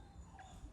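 Dogs give a brief, faint whimper, a single soft whine that fades quickly.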